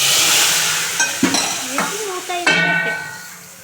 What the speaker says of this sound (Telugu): ఇప్పుడు తాలింపు వేద్దాం